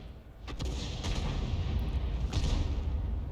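Tank cannon fire in World of Tanks during an Object 261 match, with HE shells: a few distant booming shots over a constant rumbling battle ambience, fairly faint.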